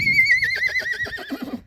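A Kyrgyz foal neighs in a single fairly close whinny, rising and then quavering in a rapid tremolo as it fades, heard alone.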